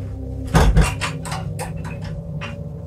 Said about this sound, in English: Now you heard me put the latch on the door there.